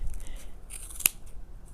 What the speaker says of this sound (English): My scissors are not that sharp, so I'm gonna have to cut this in layers